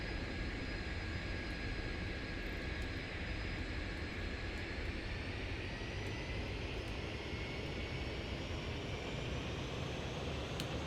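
A Lockheed T-33 jet trainer takes off in a flight simulator, giving a steady, loud engine roar with a rising whine that holds constant for the whole stretch, with no talking.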